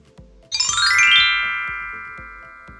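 A bright notification bell chime prompting a subscribe, struck once after a few soft taps and ringing out in a long, fading tone.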